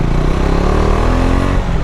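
A KTM 390 Adventure motorcycle engine pulling hard under acceleration, a loud, steady, close-up drone with rising tone throughout.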